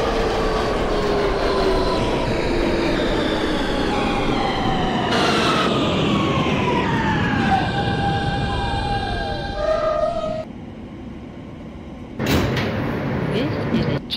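An R160 G subway train in the OpenBVE train simulator game runs with a rising and falling electric motor whine, rumbling wheels, and door chimes and thumps as it stops, under an automated announcement voice.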